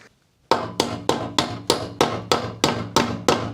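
Hammer blows drive a part onto the threads on the suspension of a 1980 Dodge W150, nine sharp metallic strikes in a steady rhythm after a brief silence, close and loud with ringing decay.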